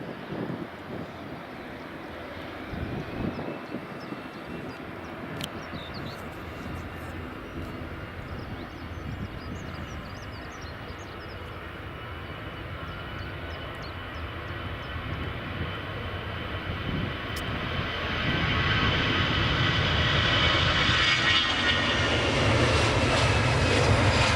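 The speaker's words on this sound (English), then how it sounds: "now we've got EasyJet's A320 just lining up on runway 24" An EasyJet Airbus A320 lines up on runway 24 at Edinburgh Airport, its jet engines droning steadily at a distance and swelling louder toward the end.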